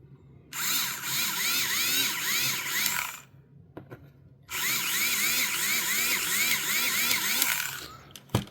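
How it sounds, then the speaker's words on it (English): A small power drill countersinking holes in a mini 4WD VZ chassis, two sustained whirring bursts of several seconds each with a wavering pitch and a short pause between, close and loud. "so we're going to countersink this one here and then this one over here"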